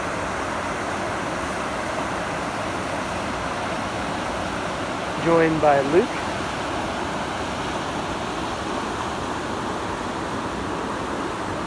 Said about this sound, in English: Down here at the shore of the river by Rainy Falls.